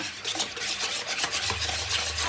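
Broccoli with oil and salt stirred in a pot, a close rough scraping and rubbing texture of a spoon working through the vegetables, steady for a couple of seconds with no voices.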